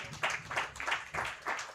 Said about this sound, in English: Ladies and gentlemen, let's give him a bigger round of applause.